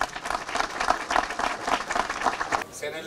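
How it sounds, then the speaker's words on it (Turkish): Audience applause at a municipal facility opening ceremony, a dense steady spread of clapping lasting about two and a half seconds before cutting off, with a voice sounding over the crowd. "yürekten bir alkış istiyorum"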